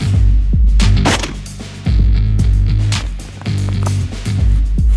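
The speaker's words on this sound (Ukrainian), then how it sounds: "Зараз стріляю в мішок." Several loud, sharp rifle gunshots, 5.45 mm armor-piercing rounds fired into a sandbag, ring out in irregular succession, each a hard crack with a short decay, close by and with no talking.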